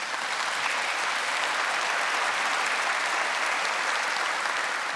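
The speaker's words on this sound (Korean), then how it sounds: "한번 박수를 좀 보내줬으면 좋겠어요" Church congregation applauding during a sermon, a dense, even wash of many hands clapping continuously at steady volume with no talk over it.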